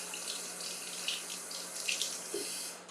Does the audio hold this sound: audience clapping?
no